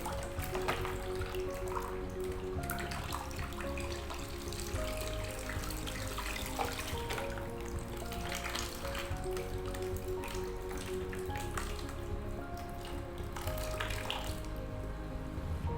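Colored water streams out of holes in a plastic bottle in a home physics experiment, a steady splashing pour with dripping that runs continuously and close by, with no talk.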